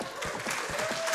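Scattered applause from an audience, a handful of claps heard at a moderate distance, brief and fairly soft.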